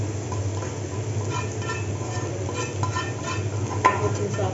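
Spoon stirring fried okra with masala in a hot pan, soft scraping and stirring strokes over a steady gentle sizzle, with an occasional utensil clink.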